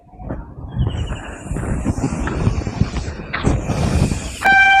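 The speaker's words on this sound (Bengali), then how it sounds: "তো ফাইনালি ট্রেনটা আমাদের কাছে এসে গেছে এবং ট্রেনটা এখানে দাঁড়াবে।" A train slowly pulls into a small railway station, its low rumble and rolling wheels building steadily near at hand, with a few squeaks and clanks and a sharp tonal whistle or brake squeal at the end.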